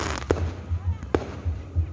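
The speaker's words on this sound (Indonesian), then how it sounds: "Apalagi kita bisa melihat kembang api menambah semaraknya malam ini" Fireworks pop over a night fish market and seafood restaurant area, two sharp distant bursts among softer thumps against a low background murmur.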